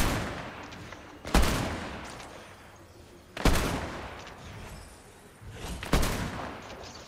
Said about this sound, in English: I have to take a shot.